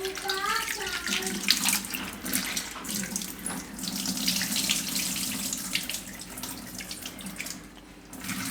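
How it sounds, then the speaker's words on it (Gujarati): Ingredients for stuffed green chillies are rubbed and rinsed under a running kitchen tap, a steady splashing stream of water into a sink lasting throughout with brief stronger gushes. "અને 2 થી 3 પાણી એકદમ ઘસીને ધોઈ નાખવાના"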